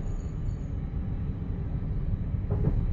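An Abellio class 745 electric train runs between Stansted Airport and London Liverpool Street, heard from inside as a steady low rumble with faint rail clatter near the end.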